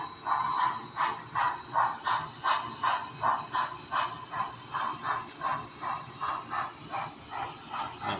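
A model steam locomotive runs through a railroad yard, giving a steady rhythmic chuffing hiss at close range, with evenly spaced pulses repeating about twice a second throughout, alone without voices.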